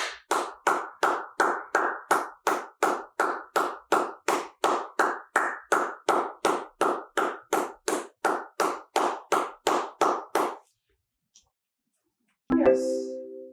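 Steady hand claps, about thirty in a row at an even, brisk rhythm, loud and close, stopping abruptly and followed by a short pause and a brief thud.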